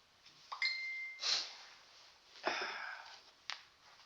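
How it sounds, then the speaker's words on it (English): A phone text message notification chimes once as a brief, bright ping, surrounded by soft breathing and sniffing noises close to the microphone with no talking. "Oh, got a text message."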